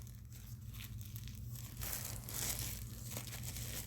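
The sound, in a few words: crinkling of plastic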